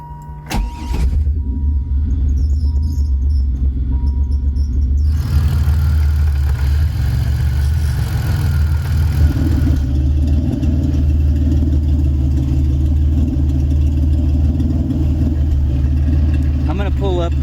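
A supercharged 3800 V6 swapped into a 1986 Pontiac Fiero cranks briefly, fires up and settles into a loud, steady idle, with a voice speaking over the running engine.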